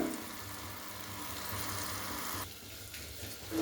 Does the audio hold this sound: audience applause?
no